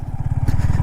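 A motorbike engine putters in a rapid, throbbing low rhythm while riding over a bumpy dirt track full of big potholes and mud mounds, close and fairly loud, with a brief rush of wind noise partway through.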